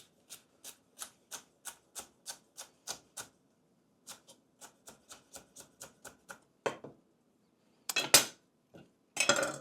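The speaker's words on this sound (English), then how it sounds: "cut down into strips, and then go across the strips into dice" A knife dices a bell pepper on a cutting board in a steady run of crisp, evenly spaced chops, up close. It pauses briefly, then ends with louder scraping and clattering as the pieces are gathered.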